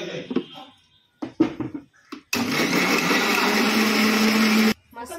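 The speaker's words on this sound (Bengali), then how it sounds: "এই যে মিক্সিতে পিসছে।" An electric mixer grinder whirs steadily for about two and a half seconds, pulverising ginger into spice paste in a home kitchen. Short bursts of talk come before the motor starts.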